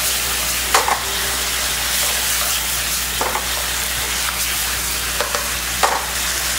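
Beef strips stir-fried in black pepper sauce in a wok give a steady, close sizzle and frying hiss, with a few short scraping clacks of the spatula tossing the meat.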